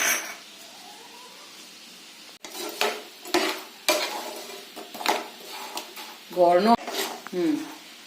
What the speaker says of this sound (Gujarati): અત્યારે આપણે ગોળ અને પાણી મિક્સ કર્યું છે